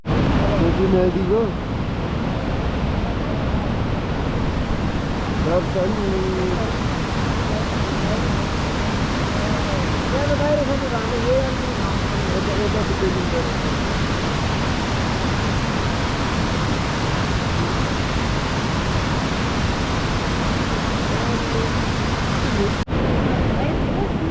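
Steady, broadband rushing of a river in Pokhara, Nepal fills the whole stretch, loud and continuous, with faint voices occasionally audible beneath it.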